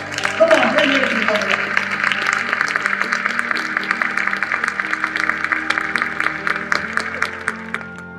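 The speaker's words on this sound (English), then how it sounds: "Give yourselves a round of applause." A large audience applauds at a motivational speaking event, dense steady clapping that carries on throughout, with a voice briefly heard at the start.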